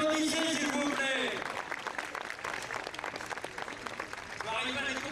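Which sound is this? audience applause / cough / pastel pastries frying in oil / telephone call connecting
audience applause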